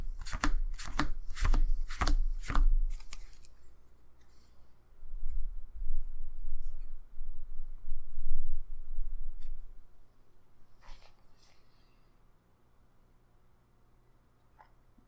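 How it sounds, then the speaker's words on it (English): A deck of trading cards is shuffled during a Harry Potter card game: a quick burst of six sharp riffling snaps at the start, then softer sliding and rustling handling, fading to near silence. "Let me just shuffle a couple more times"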